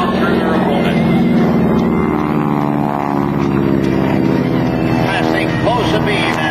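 GEICO Skytypers propeller aircraft passing close overhead at an air show open house, a loud, sustained engine drone that fills the whole clip, with a voice talking over it.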